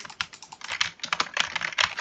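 Close-up clattering of computer keyboard keys pressed in rapid, uneven bursts, with sharp distinct clicks and no voices.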